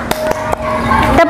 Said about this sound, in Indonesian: Kita pakai tepuk. Tepuk 1, tepuk 2